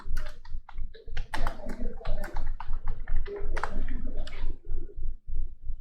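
Rapid keystrokes on a computer keyboard as a policy number is entered into a search field, a close, steady patter of clicky taps with brief pauses, no talking.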